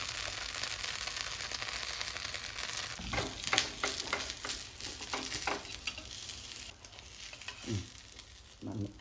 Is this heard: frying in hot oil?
yes